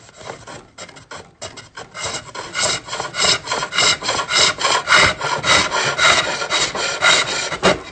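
Wood being turned on a foot-powered pole lathe with a hand tool: a loud, rhythmic rasping scrape that pulses in strokes, starting choppy and settling into a steady back-and-forth cadence close by.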